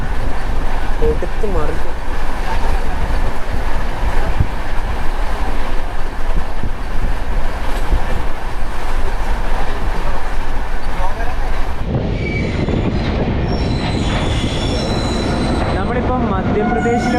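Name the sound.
Kerala Express train running at speed, sleeper class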